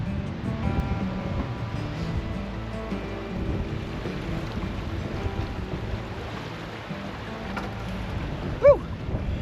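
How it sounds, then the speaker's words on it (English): Strong wind sweeps across the Copper River in Alaska during a salmon dipnetting trip, a steady loud broadband rush with a low rumble underneath and one brief sharp blip near the end. "Boy, they say it's windy here, and they ain't kidding."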